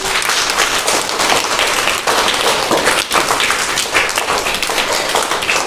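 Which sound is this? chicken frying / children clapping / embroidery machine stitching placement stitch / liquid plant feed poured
children clapping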